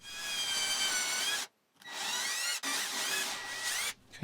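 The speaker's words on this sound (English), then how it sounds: "I could use my drill to do a counterbore" A power drill bores a counterbore into wood for a dartboard cabinet. It makes three close, loud bursts of high whining, each rising and settling in pitch, separated by brief silences.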